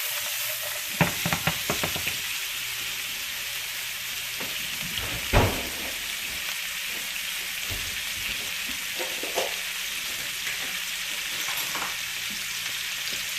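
Shrimp linguini vegetables fry and sizzle steadily in a pot, with a few scraping stirs and clatters near the start and around the middle, close and continuous.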